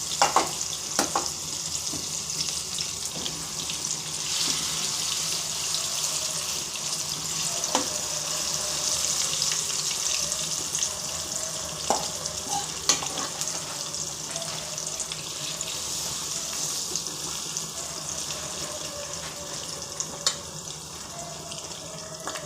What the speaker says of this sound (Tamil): நம்மளுக்கு மூடக்கூடாது, அப்படியே விட்டு ஃப்ரை பண்ணி எடுத்துக்கலாம்.